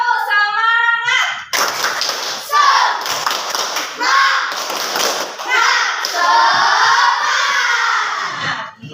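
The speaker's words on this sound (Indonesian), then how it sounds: "biar anak-anak semangat, yuk kita semangatin dulu dengan tepuk semangat" A class of schoolchildren performing tepuk semangat, a rhythmic clapping cheer, with bursts of claps and loud chanted shouting in unison, close and energetic, after a teacher's spoken lead-in.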